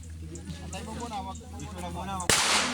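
A single sharp rifle shot cracks at an ROTC marksmanship training range, loud and close, right after a voice giving commands.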